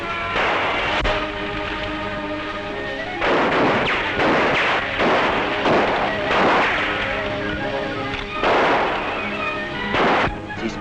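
Gunfire in an old war film: dense, rolling bursts of shots and booming reports overlapping continuously, loud and close, with a few sharper single cracks among the barrage.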